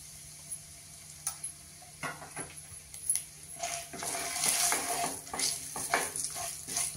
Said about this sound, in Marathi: आणि 2 तमालपत्र ती पण त्या तेलामध्ये घालूया।